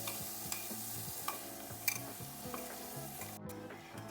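Ground mung dal paste being stirred into coconut in a pan while cooking a pumpkin-leaf fish paturi, with steady scraping strokes and light clinks over a soft sizzle, close and moderately quiet.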